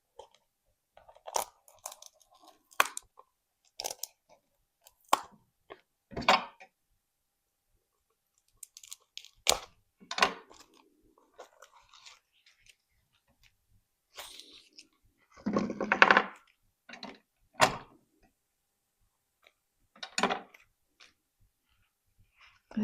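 Stiff plastic wrapping is torn and crinkled off a rigid craft item in short, sharp crackling bursts separated by pauses, close and fairly quiet, with no voices.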